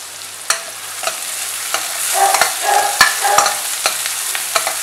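Finely chopped onions frying in hot oil with fennel seeds and cinnamon, a steady close sizzle broken by sharp scrapes and clicks of stirring, no voices.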